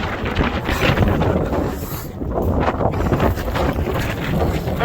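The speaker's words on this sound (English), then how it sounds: "Never this windy when I'm out here trying to sail" Strong gusty wind, around 25 knots, roars across a microphone aboard a sailboat, an Ericson 38-200, a dense continuous buffeting rush that stays loud throughout, with no clear voices over it.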